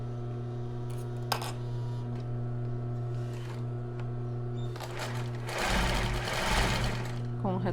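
A sewing machine hums steadily while stitching a bra, then runs fast in a loud burst of stitching near the end, with someone speaking softly at times.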